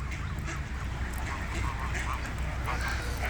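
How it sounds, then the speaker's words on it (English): A flock of Canada geese and mallards at floodwater in Kalamazoo honk and call continuously, dense and fairly close over a steady rushing background, with no talking. "Canadian geese."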